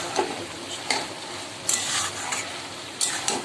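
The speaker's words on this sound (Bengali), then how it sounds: "ভালো করে কষিয়ে নিই।" Chal kumro shak fries in oil in a pan, giving a continuous close sizzle with a few scraping stirs spaced out along the way.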